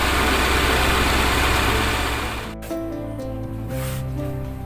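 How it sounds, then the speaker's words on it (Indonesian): A steady car engine rumble runs throughout, then shifts to a lower, smoother idle with faint tonal hum partway through, heard close with no talking, as the carburetor, distributor and throttle are adjusted. "ketika mendengarkan RPM putaran mesin ini"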